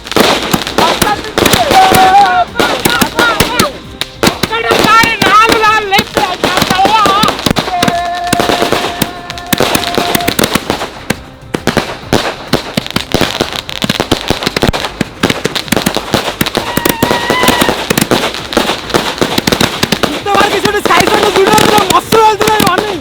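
Sky shot fireworks cake of 1000 shots firing continuously, a dense, loud and unbroken stream of pops and crackles lasting throughout, with voices talking over the barrage at times.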